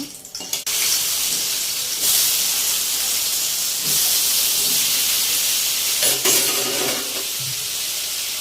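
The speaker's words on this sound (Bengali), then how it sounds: "হালকা ভাজা হয়ে গেলে পরে আলুগুলো ছেড়ে দেব।" Potatoes fry in hot oil with dried chilli and black cumin, a loud continuous sizzling hiss with brief stirring knocks and clatters, close and without talk.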